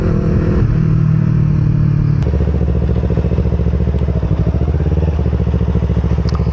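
An old Yamaha R25 motorcycle engine idles nearby with a loud, lumpy rhythmic thumping, shifting to a faster, steadier putter partway through.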